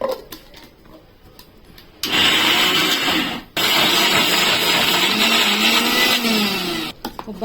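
A kitchen mixer grinder whirring loudly in bursts as it grinds cooked mixed vegetables and coconut for an old-style chutney, with pauses between runs and a quiet stretch before the first burst.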